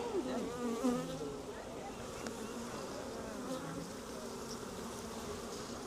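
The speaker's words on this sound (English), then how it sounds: "there's more bees on this top than I'd like it to be" Honeybees buzz around an open beehive in a garden, a soft steady drone of many wings close by, with one nearer bee swelling louder at the start before settling back into the background hum.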